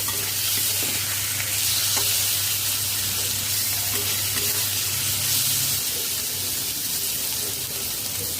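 Ground turmeric, cumin and chili powder frying in a pan while being stirred, giving a steady close sizzle with faint scraping throughout and no talk.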